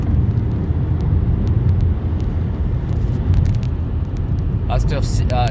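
Car driving through a busy Swiss motorway tunnel, giving a loud, steady low road and engine rumble with a brief higher whine near the end.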